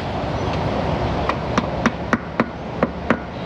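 A gasket scraper is tapped in to split the oil pan seal on a car in a repair shop, giving seven or eight sharp, close knocks at an irregular pace over a steady background of shop noise.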